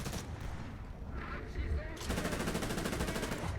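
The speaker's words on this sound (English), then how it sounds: "It's a very fast firing gun, right?" Rapid bursts from the autocannon of a BTR-80A armoured vehicle in War Thunder, a fast steady stream of shots that starts after a brief lull and runs continuously to the end, moderately loud.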